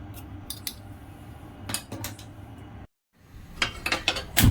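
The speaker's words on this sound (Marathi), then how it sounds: "म्हणून मी इथे सुरीनेच त्याचे साल काढून घेते" Knife scraping the skin off fresh turmeric root, a series of short dry scrapes and clicks in irregular bursts, close and clear, with a brief silent gap midway.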